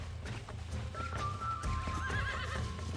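A lassoed horse neighs and whinnies loudly in the video game Red Dead Redemption, a long wavering cry over low rumbling and hoof noise.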